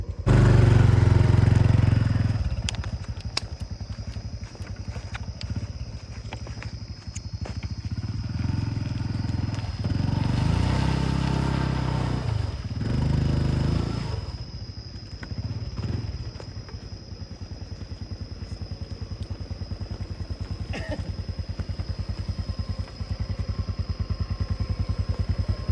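A motorcycle ridden along a rough, difficult rural track, its engine droning and revving unevenly for a long stretch, loud and close, with rattles and knocks from the bumpy ground.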